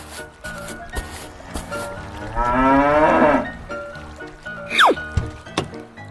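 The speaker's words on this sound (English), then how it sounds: "Cow." A cow moos once in a children's animal painting game, a long drawn-out low call in the middle, set among light game music and effects with a quick swooping tone near the end.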